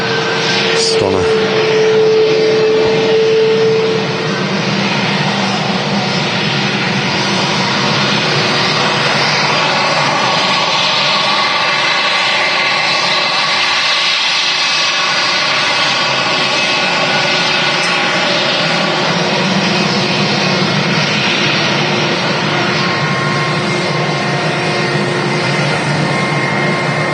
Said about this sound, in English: The Aegean A320 in the new livery.